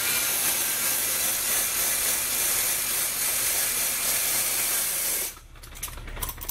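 A pad spur cleans a polishing pad caked with gel coat, giving a continuous close rasping, hissing scrape that cuts off abruptly near the end.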